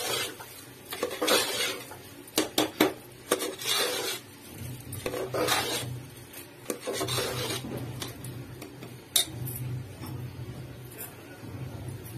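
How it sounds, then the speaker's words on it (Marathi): Dal and rice being sautéed in spices in a pot for Khandesh-style dal khichdi, with a spoon rasping and scraping against the metal in repeated strokes, close and moderately loud, no voices. "दोन मिनिटे छान परतून घेऊया मसाल्यांमध्ये जेणेकरून मसाला छान मोडला जाईल"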